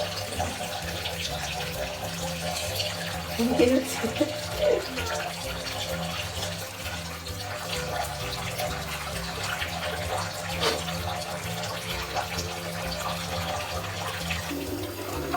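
Water runs steadily from a tap into a bathtub as it fills for a child's bath, a continuous wash of sound with a few brief splashy bursts near the start.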